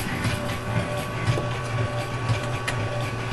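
A javaPRO-CRC machine runs at 60 RPM, producing a steady mechanical whir with a low, regularly pulsing rhythmic thump, close and continuous throughout.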